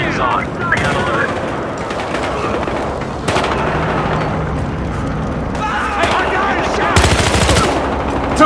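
Sustained automatic gunfire from a tactical shooter game rattles through a growhouse raid, with dense bursts and heavier volleys, while players call out over the shooting.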